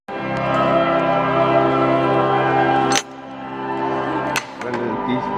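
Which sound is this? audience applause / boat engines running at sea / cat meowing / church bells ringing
church bells ringing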